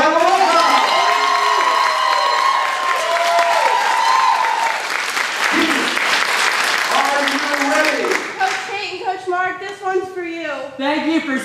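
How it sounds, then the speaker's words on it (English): An audience at the Odyssey of the Mind World Finals bursts into loud applause with cheering and shouting, the clapping dense and sustained before voices and whoops take over toward the end. "Give them a big round of applause!"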